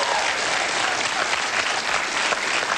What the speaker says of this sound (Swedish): Applådera gärna åt dem